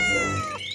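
A cartoon cat gives one short, bright meow in a Hindi children's animated story, clear and close, rising then falling in pitch, heard alone.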